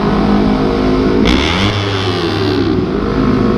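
Motorcycle fitted with a Leo Vince Cobra exhaust revving inside an underpass, a loud close engine drone that rises sharply mid-clip and then settles, with echoing rumble and no speech.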